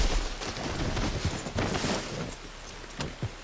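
Gunfire in Red Dead Redemption 2, a scattered volley of shots at uneven intervals with a few sharper cracks near the end, over a busy game background.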